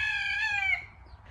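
A rooster crows once, loud and close, from a backyard pen of chickens and ducks, the call trailing off into low clucking and farmyard murmur.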